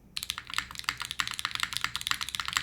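Rapid mechanical keyboard typing, close up, with bright, crisp clacks in a quick, uneven rhythm.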